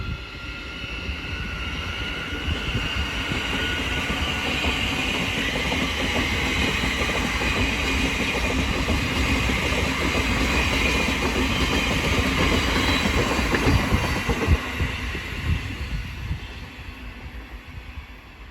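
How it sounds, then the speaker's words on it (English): A Thameslink Class 700 electric train, unit 700-022 on a Cambridge to London King's Cross service, departs Hitchin station on the East Coast Main Line with a loud, steady rumble and rolling wheel noise sustained throughout, no voices. "Now departing is the 1434 Thameslink service from Cambridge to London King's Cross"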